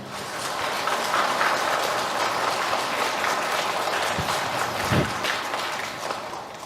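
A church congregation at a Christmas night Mass claps through a homily, a steady, dense round of applause that fills the room and holds for several seconds.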